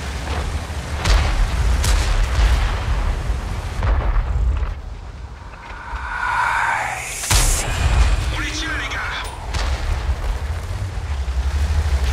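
Tank guns in the video game World of Tanks fire as heavy booms and cracks, several sharp blasts spread across the stretch with rumbling explosions between, close and loud, while a voice speaks at times.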